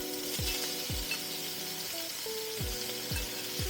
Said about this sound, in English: I want a nice good sear